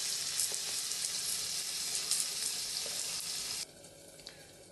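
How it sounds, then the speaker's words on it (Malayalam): Fish frying in a pan, a bright, steady sizzle close by that suddenly drops to a quieter crackle near the end, with no talk. "നമുക്ക് നന്നായിട്ട് വറുത്തെടുക്കാം."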